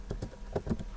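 Quick typing on a computer keyboard, about six soft close key clicks in an uneven rhythm within a second, with no speech.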